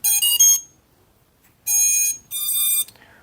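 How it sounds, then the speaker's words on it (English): Three bursts of high electronic beeping from an FPV drone's electronics, each a rapid patterned chirp sequence, loud and close with silence in between. "all the beeps are on"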